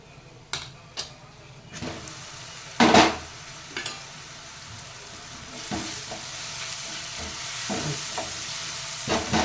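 Whole spices for a Guntur mutton curry, cumin, cashews, dried coconut and shahi jeera, fry with a soft continuous sizzle, close up, punctuated by several sharp stirring scrapes and clinks of a spoon against the pan, with no talking.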